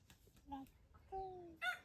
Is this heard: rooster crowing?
yes